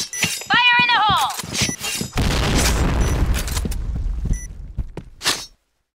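A grenade blows up in the Point Blank shooter, a heavy boom with a long crackling rumble and debris after it, following a short burst of game voice and a warbling alert tone.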